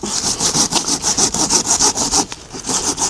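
A hand saw cuts through wood in steady back-and-forth strokes, loud and close, with a regular rasping rhythm and one short pause partway through.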